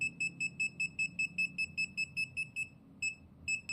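A rapid series of high-pitched electronic beeps from a REXTECH RMTD-200 multimeter's non-contact voltage detector tracing a broken wire, in a steady rhythm, pausing briefly near the end, then resuming, with a low background hum.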